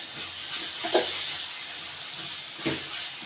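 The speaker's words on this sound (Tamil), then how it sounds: "இஞ்சி பூண்டு பேஸ்ட்டு சேர்த்து நல்லா வதக்கி விட்டுடலாம்" Ginger garlic paste sautéing in a hot pan for a dried shrimp thokku, giving a steady broad hiss of frying with a couple of soft scrape accents, no voices.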